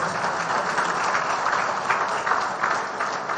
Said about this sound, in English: I think a bigger round of applause will convince her.